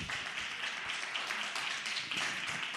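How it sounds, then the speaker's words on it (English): Applause from a conference audience, a steady wash of many hands clapping that stays even and moderately loud through the whole stretch, with no voices over it. "A round of applause, please."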